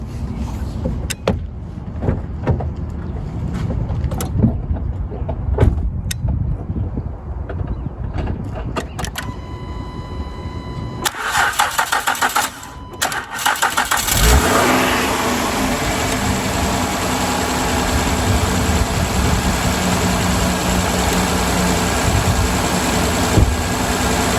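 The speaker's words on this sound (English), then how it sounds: "I'm gonna try to jumpstart my car." A car is jump-started with a BOFEKTE portable jump starter: clicks and short cranking bursts, then the engine catches and settles into a loud steady idle that runs on for about ten seconds, no voices.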